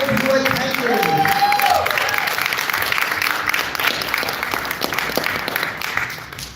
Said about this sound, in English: Give a round of applause for all those who attended.